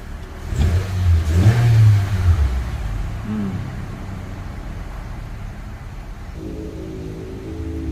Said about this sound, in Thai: รอบเครื่องยนต์ อยู่ประมาณพันกว่ารอบนะ เพราะว่า เครื่องยนต์ยังเย็นอยู่นะ